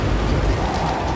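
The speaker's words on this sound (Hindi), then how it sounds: "ये तूफान कैसा?" Heavy rain and strong wind sweep over a graveyard in a storm, a steady, loud, dense rush with no gaps.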